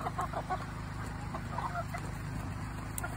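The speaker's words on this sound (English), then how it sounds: "this chicken freaks out because it wants its food" Chickens clucking and squawking at feeding time near a gated pen at bedtime, faint bursts of fowl calls over a steady background hum, no talking.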